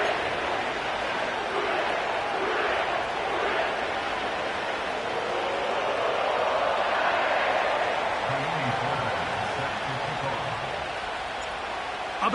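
Sellout crowd at an NFL football game at Paycor Stadium in Cincinnati, a broad steady roar of many voices filling the open stadium, with a commentator speaking over it.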